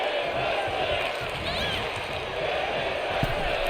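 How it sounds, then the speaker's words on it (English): A crowd in a wrestling video game chants and roars as a sustained, dense wash of many voices, steady and moderately loud with faint thuds underneath. "And the crowd chanting women's wrestling."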